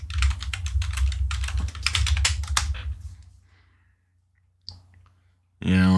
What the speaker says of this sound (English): Let me just type in May.